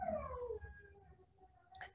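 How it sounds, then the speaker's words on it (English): A dog whines to be let outside, a brief, faint high whimper that slides downward and fades, heard alone in a quiet room. "that's my dog wanting to go outside."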